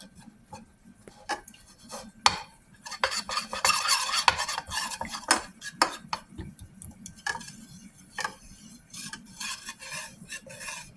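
A spoon beats and stirs a mixture in a bowl, producing quick rhythmic clinks and scraping swishes, close and clear, with a busier, denser stretch of whisking in the middle.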